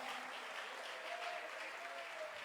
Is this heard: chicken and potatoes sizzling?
no